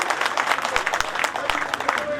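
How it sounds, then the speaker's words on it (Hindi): Audience applause at a ceremony in Panipat, a steady patter of many hands clapping, fairly close and continuous throughout. "भाई जोरदार ताली बजा दो"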